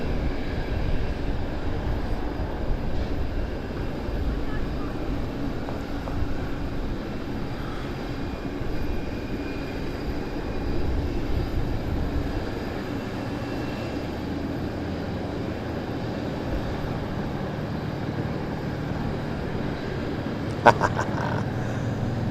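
Avro Vulcan bomber flying at an airshow at Southend Airport, a loud continuous roar of jet engines that rises and falls, heard from a crowd with voices mixed in.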